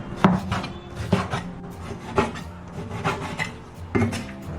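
A knife chops pork foreleg meat into small pieces on a board in slow, regular strokes, about one cut per second, close and clear with no voices.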